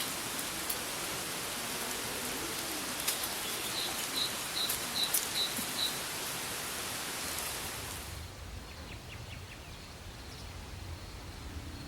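Steady rain falls on the rocky pinnacles of Meteora, Greece, a continuous hiss that thins out after about eight seconds, with a faint bird call in the background.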